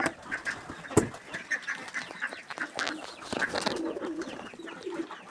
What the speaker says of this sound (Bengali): দেখবেন সব কবুতর নেমে যাবে খাবারের জন্য